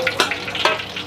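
Oil sizzling and crackling in a frying pan while cooking a salt-and-pepper fish dish, a steady loud hiss with sharp spattering bursts, no voices.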